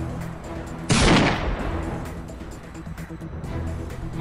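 A single loud gunshot in a short film bursts out about a second in and decays into a lingering rumble, with tense voices around it.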